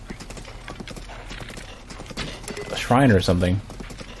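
Horse hooves clip-clop steadily in The Legend of Zelda: Breath of the Wild, a rhythmic trot close by, and a person briefly talks over the hoofbeats near the end.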